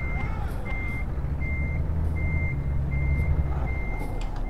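Reversing beeps from a 40-tonne truck in Euro Truck Simulator 2 sound as a steady train of evenly spaced high beeps over a continuous low engine rumble, loud and with no talk.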